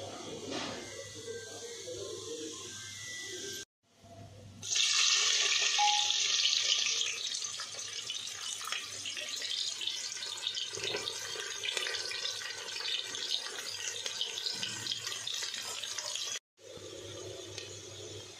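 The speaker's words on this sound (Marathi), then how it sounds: "तांदूळ आणि डाळ आपण आता धुवून घेऊया." Tap water runs into a kitchen sink while rice and dal are washed, making a steady splashing rush that stops briefly twice, with a low hum underneath.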